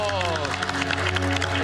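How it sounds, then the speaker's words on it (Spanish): Studio audience on a Spanish-language TV show applauds and cheers in a dense, continuous burst, with a host's voice and crowd noise mixed in throughout. "Más fuerte el aplauso."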